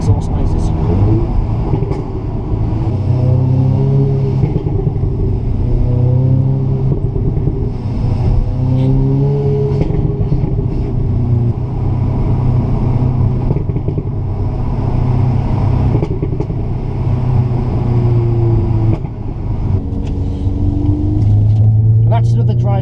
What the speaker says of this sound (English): dynamic mode, manual mode, and the standard exhaust noises